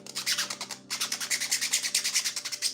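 Rapid back-and-forth rubbing of sandpaper on a small, rough 3D-printed part, close and steady, with a brief pause before the strokes resume in an even rhythm.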